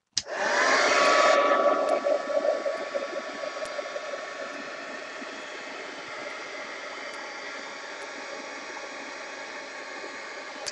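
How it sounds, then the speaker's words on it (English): A heat gun blows steadily on an art journal page, a loud broadband whoosh that swells at the start and then holds as a constant, slightly quieter rush for the rest of the clip. "heat gun."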